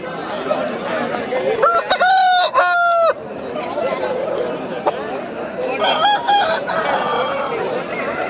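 Two loud rooster crows close together early on, then a fainter crow later, over a busy background of birds and chatter at the Pileru weekly livestock market, Andhra Pradesh, where roosters are sold.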